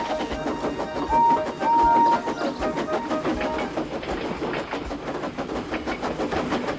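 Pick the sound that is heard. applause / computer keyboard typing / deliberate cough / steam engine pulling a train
steam engine pulling a train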